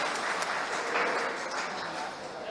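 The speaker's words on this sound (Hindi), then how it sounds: "जोरदार तालियां एक बार और बजा दीजिए सर" Audience at a police and social leader excellence award ceremony applauding the honourees, a full, steady wash of clapping from a sizeable crowd that swells and fades slightly, with speech faintly mixed in.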